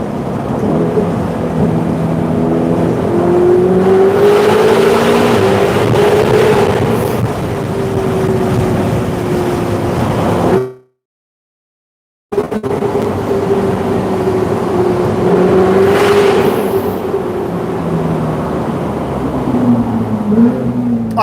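A Ferrari 488 GTB engine revving hard in a tunnel, loud and close, with a rising and falling howl that echoes off the walls. The sound cuts out briefly midway, then another long, booming rev follows.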